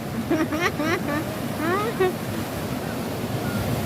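Waves break and wash onto a beach in Hong Kong, a continuous surging roar with wind noise, while people nearby talk over it.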